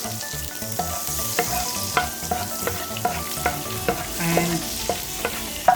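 Onion frying in melted butter sizzles steadily in a pan, with repeated soft stirring scrapes and clinks close up, and a brief word spoken over it.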